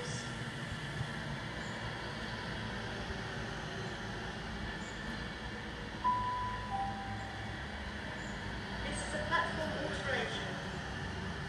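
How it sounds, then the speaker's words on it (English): A Virgin Pendolino train speeds through Crewe station, a distant low rumble of wheels on rails with a brief squeal, heard faintly against the platform ambience. "Virgin Pendolino speeding past"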